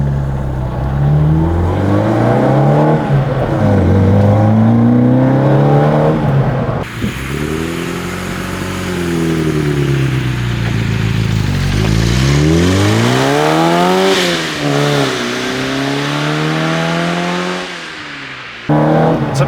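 A modified Autobianchi A112 Abarth accelerates hard through several gears, its engine revving high and rising in pitch with each shift, heard loud and close from inside the car with no talking.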